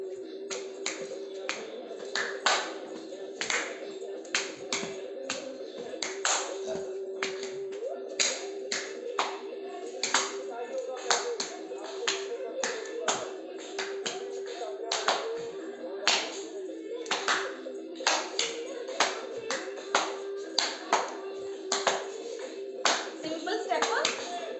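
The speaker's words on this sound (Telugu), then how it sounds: "ఈ క్లాప్ బాగా గట్టిగా కొట్టండి." Hard, sharp hand claps repeated in a quick rhythmic series during a Patanjali yoga teacher training class, loud and near, with an instructor's voice talking under and between the claps.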